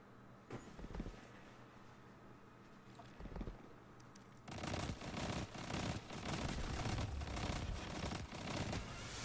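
Pulse rifle fire in Destiny 2, a dense run of rapid burst shots that starts partway through and keeps going loud to the end, with a few isolated shots heard earlier.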